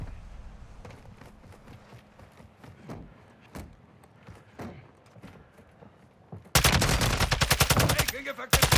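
Gunfire in the video game DMZ: scattered distant shots and thuds at first, then a loud close burst of rapid automatic fire near the end.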